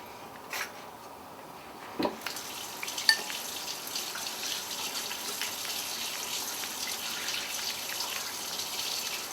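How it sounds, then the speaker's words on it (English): A kitchen tap runs steadily while hands are washed at the sink during sugar cookie baking in a country kitchen, a continuous close hiss of flowing water after a couple of brief knocks, with no talking. "While I wash my hands?"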